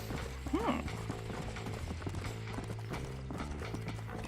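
A horse's hooves clip-clop steadily at speed in Red Dead Redemption, with a brief whinny early on, over in-game music and ambient sound, while a person talks.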